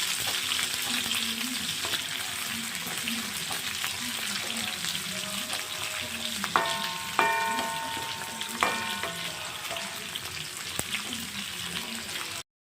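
Small onions (shallots) fry in a pan for a crab masala with a steady close sizzle throughout. A few light metallic clinks of a utensil come through, and a voice speaks faintly beneath.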